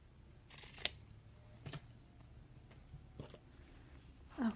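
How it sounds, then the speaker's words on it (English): Scissors cut through fabric for a doll ruffle in a few quiet, separate snips spaced apart, with soft handling noise between them in a quiet room. "I'm going to cut it right here"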